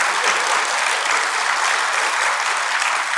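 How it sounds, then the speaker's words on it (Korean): An audience at a church health lecture breaks into sustained, dense applause, loud and even throughout with no pauses. "다시 한번 박수 좀 한번 쳐주시죠."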